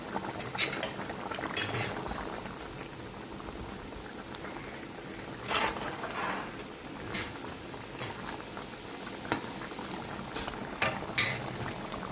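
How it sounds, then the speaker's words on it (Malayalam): Fish head curry boils on a stove, a steady close bubbling with scattered pops and sharp spatters throughout, no talking. "ഇപ്പുറത്തെ അടുപ്പിൽ നല്ല അടിപൊളി കേടിൻ്റെ തലക്കൂട്ടം ഇരുന്ന് തിളയ്ക്കുന്നുണ്ട്"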